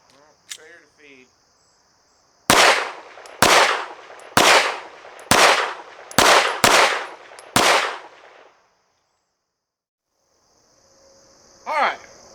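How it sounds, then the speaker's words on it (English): A rifle fitted with a Strike Industries Mass Driver fires seven loud, close shots at a target in an uneven cadence, each crack trailing a short echo, with insects chirping in the quiet outdoors before and after. "We're going to shoot top left target."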